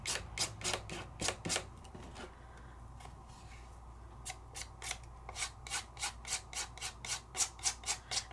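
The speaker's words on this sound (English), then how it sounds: "And I'm just scraping." Sizzix Luster Wax is scraped across a stencil in quick, rhythmic rasping strokes, close and crisp, with a brief pause midway before the strokes pick up again.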